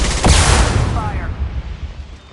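Mass Effect 2 gunfire: one loud, close blast with a heavy low thump that rings out and slowly fades over about two seconds.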